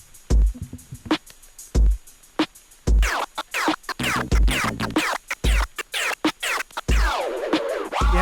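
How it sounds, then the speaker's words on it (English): Turntable scratching combining two-click flares with laser scratches, a DJ workshop demonstration: rapid stuttering chirps and sweeping zips over a recurring thumping beat, loud and close with no talking. "So it's a combination of 2-click flares and lasers."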